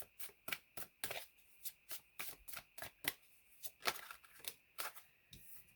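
Tarot cards shuffled by hand in a steady run of crisp riffling snaps, roughly two per second, close and quiet with no talking.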